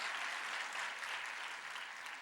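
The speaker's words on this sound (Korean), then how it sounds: "박수 소리가 뭐 그래. 좀 더 크게 쳐요." A church congregation claps together during a Sunday worship service, a steady, even wash of applause that holds at moderate level throughout.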